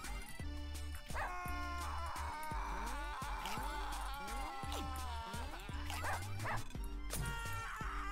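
A dog in Russian Subway Dogs barks and yips repeatedly in quick, bright bursts over looping game music with steady bass notes, some barks bending into whimpering tones.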